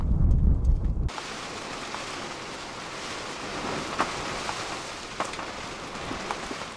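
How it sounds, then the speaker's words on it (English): Heavy rain pours down steadily, a dense hiss with scattered sharper drops striking nearby, after a brief low rumble at the start. "it started to rain. It wasn't much to start with, but it was soon quite ferocious"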